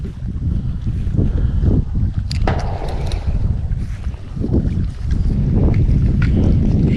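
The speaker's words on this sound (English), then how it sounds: "Wind is picking up, man." Strong wind gusts steadily across the microphone beside a lake at a carp fishing spot, a loud continuous roar that rises and falls in waves, with a few faint clinks.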